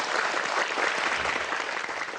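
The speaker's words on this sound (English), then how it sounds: "Please give him a round of applause." A studio audience at a televised talk show applauds steadily, a dense wash of clapping at moderate volume throughout the short stretch.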